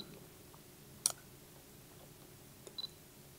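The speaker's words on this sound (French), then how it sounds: "je vais ici prendre la première photo" A Fujifilm X100S takes a photo with one quiet, crisp shutter click, followed moments later by a couple of faint soft clicks against a low, hushed room background.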